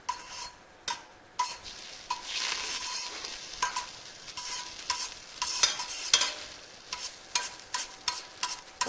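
Pieces of turkey meat fry in hot olive oil, a steady close sizzle broken by repeated clicks and scrapes of a utensil stirring and turning the meat in the pan, with no speech.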